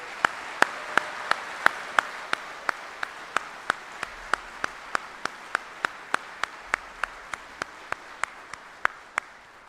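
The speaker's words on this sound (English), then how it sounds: "Please join me in a round of applause for the families of our retirees." Crisp, evenly paced claps ring out close by at a steady rhythm over a faint bed of crowd clapping, as an audience at a US Army retirement ceremony applauds the retirees' families.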